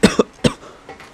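A person coughs close to the microphone in four short sharp bursts, the last two fainter, with no talking around them.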